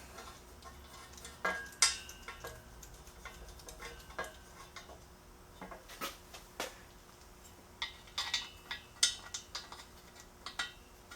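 Headers being bolted onto a Chevy small block engine: scattered metallic clicks, taps and ratcheting ticks of tools and bolts, sparse and irregular, close by in a quiet shop.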